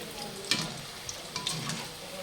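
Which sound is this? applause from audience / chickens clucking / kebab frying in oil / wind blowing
kebab frying in oil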